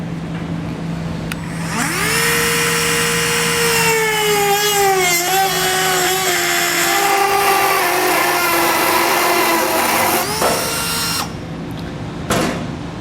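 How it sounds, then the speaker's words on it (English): A Dremel rotary tool spins up and cuts into a plastic panel during a trailer hitch installation on a 2022 Subaru Outback Wagon, a loud, close, high whine that shifts pitch under load for about eight seconds before winding down. "Or if you have a Dremel tool, this is probably going to be the best one to use and what we're going to use."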